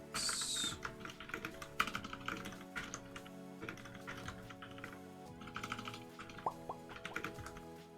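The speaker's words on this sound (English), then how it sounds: "Really bad at typing that key for some reason today." Quiet typing on a computer keyboard, irregular bursts of soft key clicks and taps with short pauses between, close and faint, no one talking.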